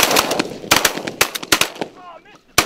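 Shotgun blasts ring out during a pigeon hunting contest, several loud sharp reports in quick succession, close by, with a brief voice between the last shots.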